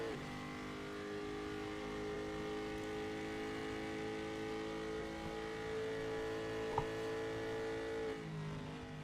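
Race cars drive at Bay Raceway Park in Australia, their engines holding a steady sustained drone that rises slightly in pitch through the corners, heard loud with no voices.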